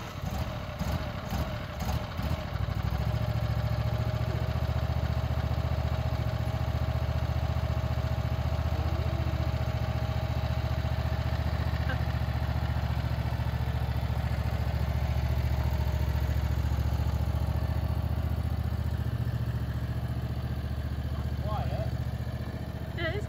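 An engine starts with a brief clatter and then settles into a quiet, steady low idle rumble that holds for the rest of the clip.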